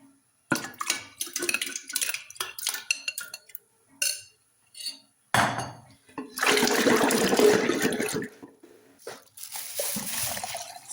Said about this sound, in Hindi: अपने ये बर्तन धोने वाली हूँ